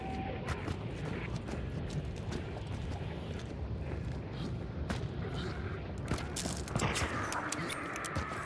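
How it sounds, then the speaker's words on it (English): Rapid gunfire from a video game shooter, dense bursts of shots crackling over a busy battle mix, steady and loud throughout with a sharper flurry near the end. "Dude, this guy is shooting me."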